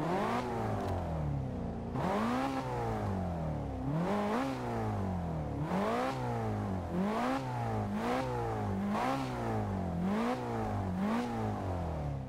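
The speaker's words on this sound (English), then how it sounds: "Proper deep, bellowy V8 sound with, I think it's twin turbo?" BMW M6 Gran Coupe twin-turbo V8 in Forza Horizon 2 revving repeatedly, each rise-and-fall rev roughly every second or two with a deep, bellowing tone, loud and steady with no talk.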